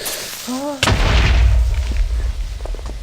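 A Minecraft creeper explosion: a sudden loud boom bursts in after a brief tone, followed by a rumbling crackle that slowly fades.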